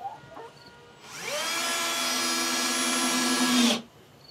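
A power drill driving a screw into a wooden hen nest box: one steady whirring run lasting a few seconds, close and loud, rising in pitch as it spins up and cutting off sharply.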